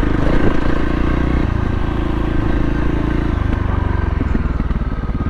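A Voge 300 Rally motorcycle engine runs loud and close, its steady rumble stepping in pitch as it shifts up through the gears, with faint mechanical clatter underneath.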